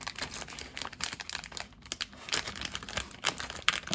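Close crinkling and rustling of thin plastic, an irregular run of crackles and tears as a sealed parts bag from an Italeri plastic model kit is pulled open, with no talking.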